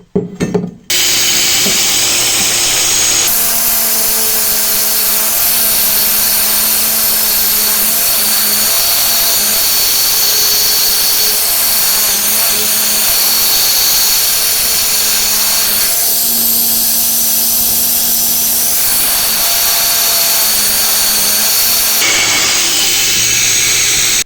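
A soft brush attachment on a power tool scrubs rust from metal with a loud, steady whirring grind that runs almost unbroken, its pitch shifting slightly as pressure changes, with no talking.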